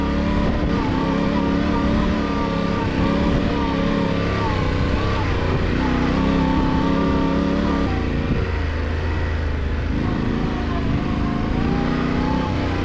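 A Yamaha Tenere 700 motorcycle rides through the Mojave desert, its engine droning steadily with shifting revs close by, while the rider talks over it.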